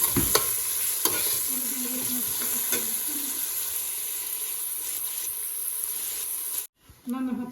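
Spice paste for biryani frying in a pan, a loud, steady close sizzle with occasional spoon scrapes, a brief voice murmuring underneath, then a sudden cut to near-silence before the sizzle returns.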